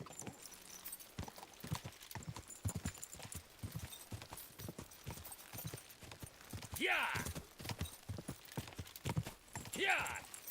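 A horse's hooves clip-clop steadily and close by, with a few louder flurries, while people talk and shout excitedly over the rhythmic hoofbeats.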